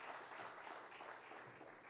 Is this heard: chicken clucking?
no